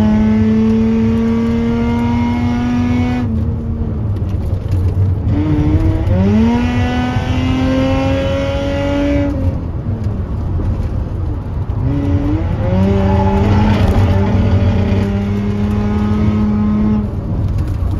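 Car engine with an open exhaust revving hard on the winding mountain curves near Lavasan, loud and close, rising and falling through gear changes with sustained high revs, no talking.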